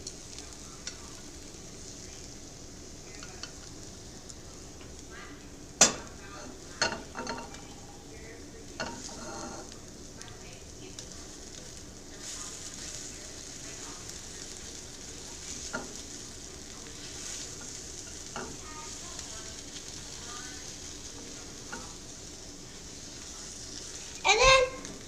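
Eggs sizzle steadily in a very hot pan while being stirred and broken into chunks, with sharp utensil scrapes and clinks against the pan rising over the continuous frying hiss.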